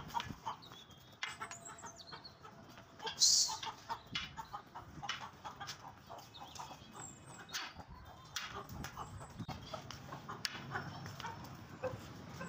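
Chickens cluck and a rooster calls among other farm birds, with scattered short chirps and rustling throughout; a dog barks briefly in the mix.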